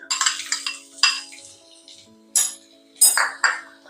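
Fennel seeds crackle and pop in a pan over medium heat, with sharp intermittent spatters and a metal spoon clinking and scraping against the pan, close and clear with no voices.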